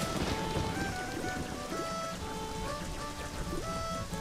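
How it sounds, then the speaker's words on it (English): Steady rain falls in Clock Town in The Legend of Zelda: Majora's Mask, a dense continuous hiss of drops with soft tonal game music beneath, even in loudness throughout. "the second day is always rainy"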